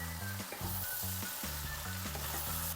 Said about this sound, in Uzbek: Ana endi basay karomlarini solamiz, aralashtiramiz yana.